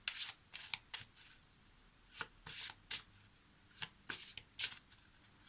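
Tarot cards riffled and slid in quick, soft bursts, several separate shuffles spaced close together, quiet and near with no talking.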